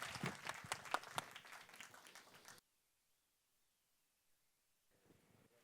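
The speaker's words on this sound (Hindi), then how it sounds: "जोरदार तालियों के साथ स्वागत करिए आरिफ ज़कारिया सर" Enthusiastic audience applause welcoming a performer on stage, dense crowd clapping for a couple of seconds before cutting off abruptly into near silence, followed by faint rustling.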